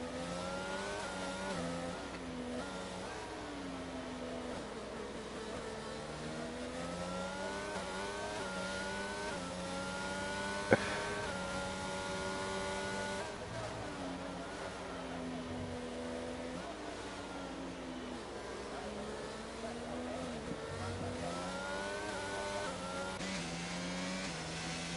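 Race cars in a sim racing game during a wet race, steady high-pitched engine whine with shifting revs throughout, several cars droning together at constant loudness, one sharp click partway through.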